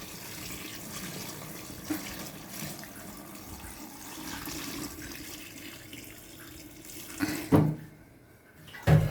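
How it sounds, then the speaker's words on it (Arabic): Boiled water poured out from a pot, a faint, soft trickle and slosh over quiet background, with a couple of louder splashes near the end. "هفضي الميه كده، طبعا الميه لازم تكون مغليه"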